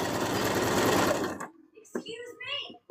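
A sewing machine stitches a leaf onto the tail of a plush toy in a fast, loud, buzzing run that stops abruptly after about a second and a half, leaving quieter handling noises.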